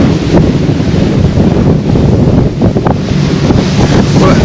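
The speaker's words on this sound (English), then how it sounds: "completely effortless acceleration there, up to 25 knots, very, very smooth with those Verado 400 engines" An 11-metre RIB powerboat with twin Verado 400 outboard engines accelerates to around 25 knots, the engine roar buried under heavy wind buffeting and rushing water and surf.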